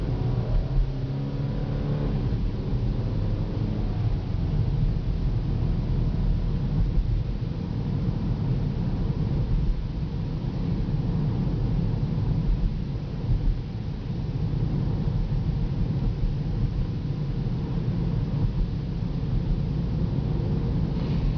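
A salvaged 2012 Chevy Equinox AWD making a U-turn, heard from inside as a steady engine hum and road rumble that holds without a break for the whole stretch, with no talking.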